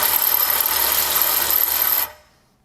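A Snap-On CTR762 electric ratchet runs in one steady, loud, high-pitched whir for about two seconds, then cuts off abruptly into silence.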